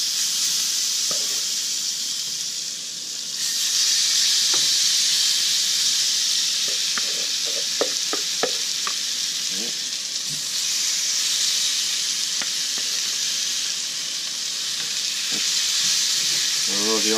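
Venison fajita mixture sizzling in oil in a pan, a loud continuous hiss with scattered pops and crackles, close up and free of talk.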